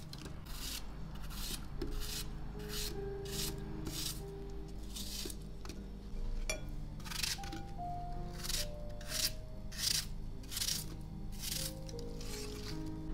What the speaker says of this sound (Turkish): Her bir dilimi şöyle ikiye kesiyorum.